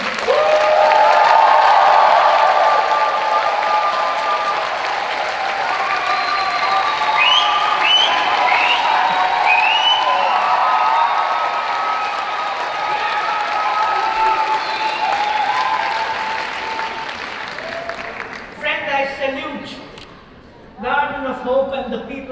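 A conference audience at a world conference on women's shelters in Taiwan claps and cheers loudly in a sustained wave of applause with whoops, then it fades as a voice begins speaking near the end.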